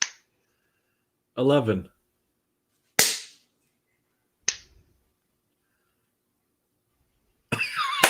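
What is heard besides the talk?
people clapping in turn over a laggy call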